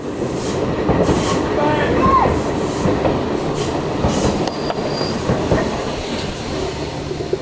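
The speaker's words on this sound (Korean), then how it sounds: "기차 지나가는 거 씬 따로 찍고" A train rolls past steadily for several seconds, with a continuous rumble and clatter of wheels on rails. A brief high squeal rises above the rumble, and no talking is heard.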